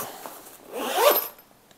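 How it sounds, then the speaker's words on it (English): A single zipper pull closes the fabric accessory pouch of a foldable solar panel, close and clear, rising to a brisk rasp over about a second with no talk. "And then it's just to zip it up"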